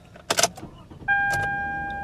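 A car engine cranks briefly and catches after two short clicks of the key, then settles into a steady idle with a bright whine; started using a transponder key with worn teeth.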